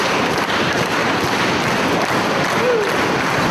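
A dense, steady roar from an arena crowd at a Ring of Honor wrestling match between Bryan Danielson and Austin Aries, cheering continuously with a few claps and thumps mixed in, and a commentator faintly talking underneath.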